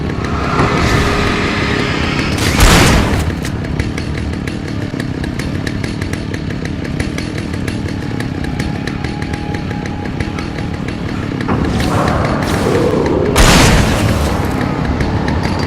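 A chainsaw roars in the video game Alan Wake: The Signal, a loud continuous buzzing engine drone with sharp revving bursts near the start and again toward the end, alone with no talk.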